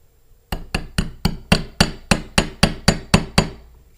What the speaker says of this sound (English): we'll start the retention pin by first a couple light taps.